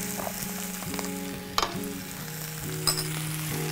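Ingredients sizzle steadily in a hot pan before chicken is added, a continuous frying hiss with a couple of brief clinks of stirring utensils, close and moderately loud, no talking.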